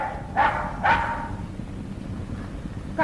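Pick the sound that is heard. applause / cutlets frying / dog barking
dog barking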